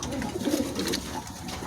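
A pair of white Lakka pigeons coo softly and steadily at a breeder's loft during a Pohela Boishakh sale, the low murmuring calls close and continuous with faint higher chirps above.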